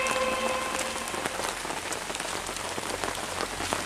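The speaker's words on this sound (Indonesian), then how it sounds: "Gerimis. Nggak gede sih, cuma gerimis." Light drizzle falls steadily outdoors after a fishing trip, a soft continuous patter with close individual drops, no speech heard.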